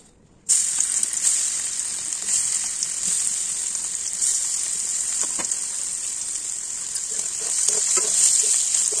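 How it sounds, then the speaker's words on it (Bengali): Paneer frying in a pan, a loud, steady bright sizzle that starts abruptly and holds throughout, close up with faint stirring clicks. "দেখছেন কি সুন্দরভাবে ভাজা হচ্ছে"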